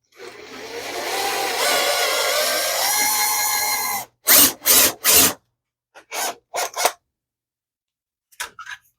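A step drill bit bores through a soft plastic plate, a continuous close grinding rasp for about four seconds, then several short separate bursts of drilling with silent pauses between them.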